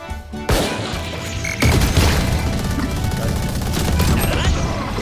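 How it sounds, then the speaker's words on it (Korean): Rapid bursts of Valorant gunfire crack and clatter loudly, with an explosive crash in the middle and a voice talking underneath. "그 총소리"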